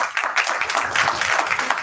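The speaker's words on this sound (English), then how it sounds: "Give a huge applause to her." Brief burst of applause from a crowd, steady dense clapping filling the whole moment without talk.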